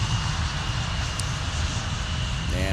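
An Icelandair airliner takes off from runway 17 at MSP airport, its engines a loud, steady, broadband roar with a heavy low rumble that holds throughout.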